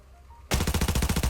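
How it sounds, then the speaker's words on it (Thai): Automatic gunfire in the tactical shooter Arena Breakout, a sudden rapid burst of about a dozen loud, close shots in quick, even rhythm right after a near-silent start. "เมื่อกี้ผมว่าผมยิงไปเลยนะ"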